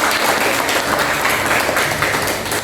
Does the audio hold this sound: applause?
yes